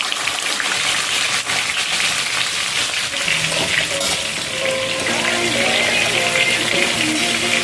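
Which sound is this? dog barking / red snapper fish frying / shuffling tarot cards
red snapper fish frying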